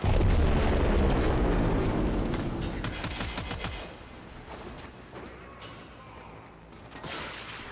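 The Tenora assault rifle in Warframe fires a dense, rapid burst of shots that fades after about four seconds, leaving scattered sharp impacts and softer game effects.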